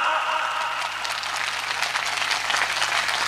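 A comedy show audience claps in a steady, fairly soft patter that fills the whole stretch, with a faint hum underneath and no one talking over it.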